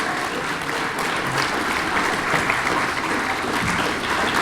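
An audience in a school hall fills the room with dense, steady applause throughout, loud and close, at a 2019 athletic hall of fame ceremony at Fairfield Union.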